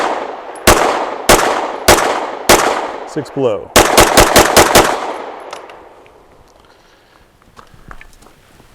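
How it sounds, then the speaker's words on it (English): Eleven rapid pistol shots with Browning ammunition in a shooting drill ring out close and loud, first as spaced single cracks, then a fast tight burst, followed by fading echo, footsteps and a brief voice. "so it took just under 5 seconds for those 11 shots"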